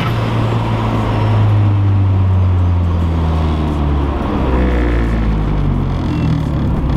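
A car driving while new brakes are bedded in, repeatedly speeding up to 80 and slowing to 15, heard from inside as a loud, steady low engine drone and road roar with no speech.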